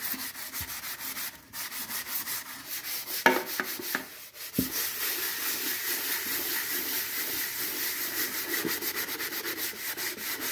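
Aluminum is scrubbed by hand with a homemade cleaner, a quiet, continuous rapid rubbing with a few brief pauses and knocks, close and without talking.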